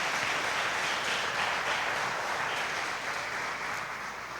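A church congregation applauds during an evening service, a dense, steady wash of clapping that holds at a strong level for several seconds and eases slightly toward the end, with no talk over it.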